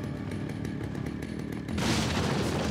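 Chainsaw enemy's saw from Resident Evil 4, a steady buzzing engine drone with faint pulsing, swelling louder and harsher partway through as it comes closer, with no talk.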